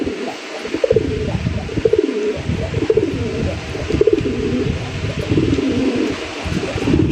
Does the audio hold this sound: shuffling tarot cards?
no